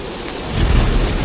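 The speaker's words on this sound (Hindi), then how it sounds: "हे भगवान, यह तो बहुत जोर की बारिश आ गई।" Cartoon sound effect of a thunderstorm with heavy rain: a dense, steady roar of downpour with a deep thunder rumble swelling partway through, loud and close, with no voices.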